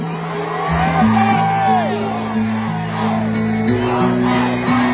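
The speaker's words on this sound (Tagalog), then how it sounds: "Ang sigaw ng mga Davaoenyos ay..." A rally crowd of Davao residents shouts and cheers continuously, loud and sustained, with a steady droning tone running underneath throughout.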